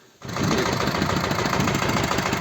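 A small walk-behind motor tractor (motoblock) engine starts up and then runs steadily and loudly close by, with a rapid chugging putter, before autumn ploughing of heavy manured soil.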